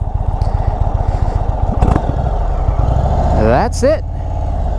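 Low engine rumble of a 2024 Indian Springfield Dark Horse bagger motorcycle running steadily close by, with a voice talking over it and a rising whistle-like sweep near the end.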